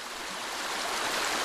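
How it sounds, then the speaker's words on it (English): A mountain stream of rushing water pours in a steady, dense, close wash of sound that never pauses over the short stretch. "The sound of rushing water triggers the same expectations in people all over the world."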